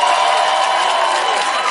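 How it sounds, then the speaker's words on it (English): Audience cheering from a crowd at an event, a continuous loud roar of voices held steady throughout. "The audience cheering"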